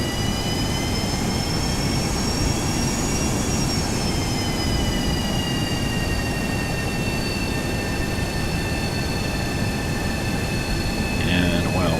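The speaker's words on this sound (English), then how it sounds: "Parking brake off. Bring the power up. Get taxiing here." Simulated Boeing 737-200 jet in X-Plane 11 taxiing as power comes up, a steady, loud whining engine drone with high tonal whines shifting in pitch, continuous throughout and alone without talk.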